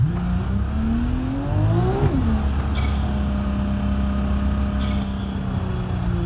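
A car in the BeamNG driving game whooshes past with a rising then falling engine note, loud and close, leaving a steady engine drone from the player's own vehicle underneath.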